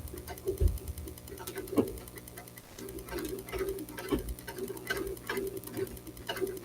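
A sewing machine stitches fabric in a home sewing session, its run broken by short mechanical bursts and clicks over a low steady hum, with faint background noise and no talking.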